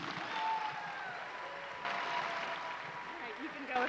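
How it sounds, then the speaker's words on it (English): A burst of clapping rises from a group, with a voice talking over it as the applause continues at moderate volume. "How about another round of applause for Miss Emma?"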